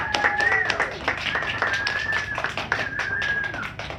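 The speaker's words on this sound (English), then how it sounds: "let's give our students a round of applause" A crowd claps for students at a public speaking school, a continuous patter of hands lasting several seconds, with a voice or tonal sound carrying over the applause.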